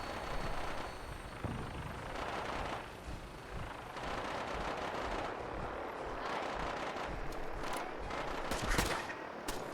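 Automated turrets in Fallout 4 fire rapid, overlapping bursts of gunfire. The shots rattle on continuously at a fairly low level under a dense, noisy game soundscape.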